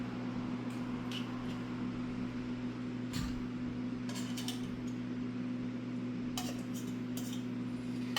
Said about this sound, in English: I'm just going to start scraping some tuna in here.